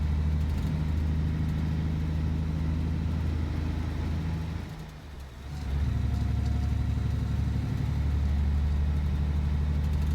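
A heavy truck engine drones continuously with a rattling, shaking rumble in the video game Alaskan Road Truckers. It dips briefly midway, then returns to a loud, steady roar.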